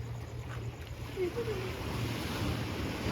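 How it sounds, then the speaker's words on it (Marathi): Ocean waves at Alibag wash steadily onto a beach with a constant rushing roar, mixed with wind buffeting the microphone. "लाटांचा आवाज बघू शकता आणि लाटा पण बघू शकता समुद्राच्या"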